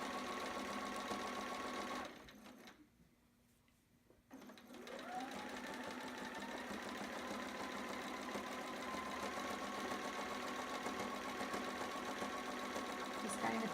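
Sewing machine back stitching fabric, a close, steady mechanical whirr that stops briefly, then resumes and runs continuously, with no talk.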